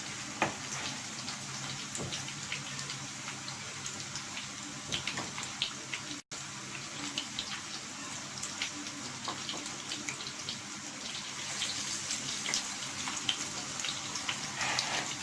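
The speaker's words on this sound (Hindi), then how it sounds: "इसमें इसको हम कोट करते जाएंगे और फ्राई पैन में फ्राई करने के लिए इसको हम फ्राई करते जाएंगे।" Coated fish fries in a frying pan, a steady close hiss and sizzle with faint crackles running throughout and no talking.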